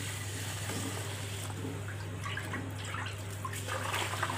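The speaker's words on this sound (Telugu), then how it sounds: "ఈ గిన్నెలో సగం నీళ్ళు తీసుకుందాం." Water is poured steadily into a cooking bowl to make sugar syrup for boondi laddu, a continuous rushing trickle over a low steady hum.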